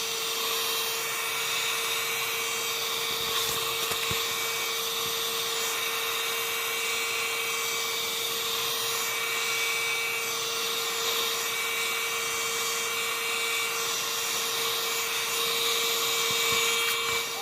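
Heat tool blowing on a wet composition notebook journal page, a steady loud whirring hum with a constant tonal drone throughout, no voices.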